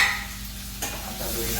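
Garlic butter chicken sizzles in a pan as it is stirred, a loud, dense frying hiss heard up close, with a scrape of the utensil partway through.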